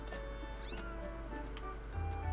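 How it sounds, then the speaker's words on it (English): A cat-like pet creature in the video game Zelda Skyward Sword HD lets out faint meows over steady game music and background tones, the cries soft and brief rather than prominent. "It meows like a cat, but it's not really a cat."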